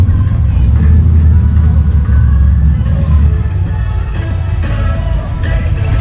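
A wicked modified street car at a pre-party gathering rumbles steadily with a loud, deep engine drone that holds throughout, close by, with crowd voices and talk faintly mixed in.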